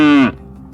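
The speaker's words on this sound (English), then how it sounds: "The cow says moo." A single short cow moo, loud and close, sounds once and then drops away into quiet.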